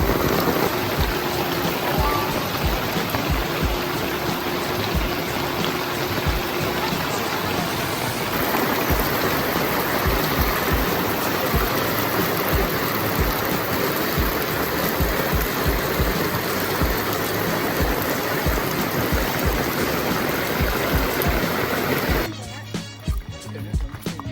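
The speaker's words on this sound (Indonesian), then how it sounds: "ternyata hujan deras sampai atas" Heavy rain falls steadily at a hillside temple site at Gedong Songo near Semarang, a dense, loud, continuous wash that runs unbroken for most of the clip before cutting off near the end.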